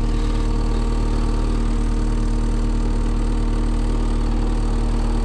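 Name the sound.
heavy equipment engine rattling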